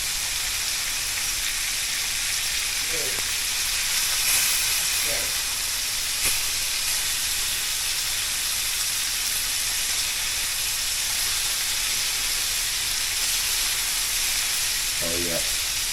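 Fish fries in a pan of hot oil with a constant close sizzle and hiss that never lets up, with a few faint thuds and clinks at moments.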